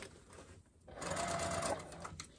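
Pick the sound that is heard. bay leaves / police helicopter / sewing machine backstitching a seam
sewing machine backstitching a seam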